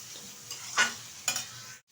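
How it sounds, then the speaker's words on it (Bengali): Potatoes being stirred in a frying pan with spices while cooking a banana-flower dish: a low steady sizzle with two short scraping stirs, close and alone, cutting to silence at the end. "ভালোভাবে কিন্তু কষিয়ে নিয়েছি আলুটা সবগুলো মশলার সাথে।"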